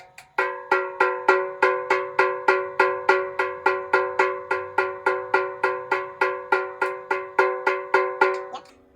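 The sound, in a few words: snare drum head tapped while tuning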